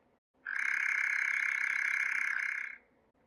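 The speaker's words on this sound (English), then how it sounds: "Nightjar." A nightjar makes one steady, sustained churring trill that lasts about two seconds, loud and close, with a quiet moment before and after it.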